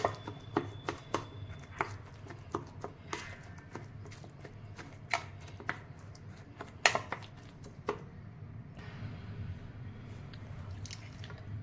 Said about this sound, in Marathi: सुरीने अशा प्रकारे मी आता त्याचे तुकडे करून घेते